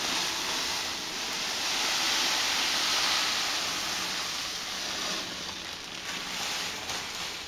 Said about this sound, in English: Pour in more grain.